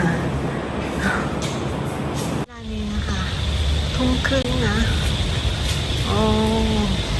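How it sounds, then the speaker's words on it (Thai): Rain begins to fall over a private forest garden in Thailand, a steady hiss of drops on surfaces and foliage with birds chirping intermittently and a brief dip before the shower thickens. "ฝนจะตกแล้วนะคะ"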